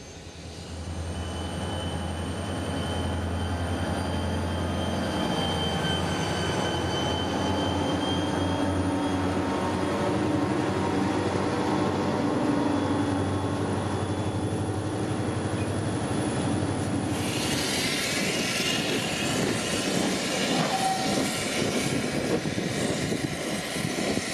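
A pair of ex-Conrail GP40-2 diesel locomotives, the leader built in May 1978, passes on a Central Florida mainline with a shoving platform, giving a loud, steady engine rumble that holds throughout, with brighter wheel and rail noise rising near the end.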